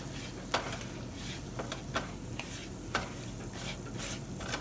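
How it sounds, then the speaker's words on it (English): Flour stirred into an onion, garlic and butter paste in a pan for scalloped potatoes with bacon, with a steady soft sizzle under scraping strokes and a few sharp spoon taps against the pan, fairly close. "we're going to put in our 3 tablespoons of flour into this, and we're just going to mix"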